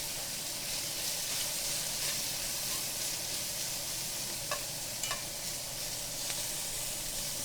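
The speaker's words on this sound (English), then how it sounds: "Spread it back out for one last stir fry." Beef sizzles steadily in a hot pan while being stir-fried for a Thai basil beef bowl, a dense continuous hiss with a few faint clicks of a utensil against the pan.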